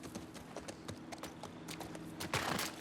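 Horse hooves clop in The Last of Us Part 2, a brisk, even rhythm of near hoofbeats over a low ambient hum, growing louder toward the end, with no talking.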